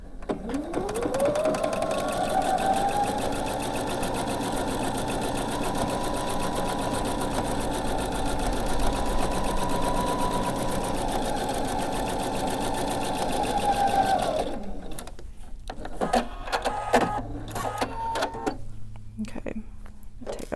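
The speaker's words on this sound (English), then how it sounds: "now I'm going to turn it around and sew the other side" Sewing machine running a seam a quarter inch from a marked line on quilt fabric, a steady motor whirr for about fourteen seconds, then stopping, followed by quieter handling sounds.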